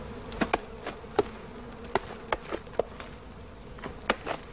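Wasps around a smoked nest of larvae in the Orinoco headwaters, heard as a faint, scattered run of short buzzes and crisp ticks over a quiet background, with no voices.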